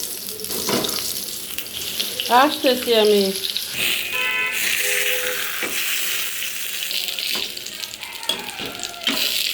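Eggplant slices fry in a pan with a steady sizzling hiss, mixed with kitchen clatter and a person talking close by.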